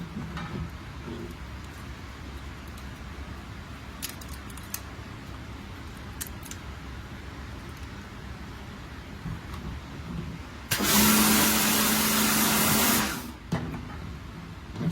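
A pressure washer gurney blasts mud out of freshly split mud crab halves, a loud steady hissing roar lasting about two seconds that cuts off abruptly against a quiet outdoor background.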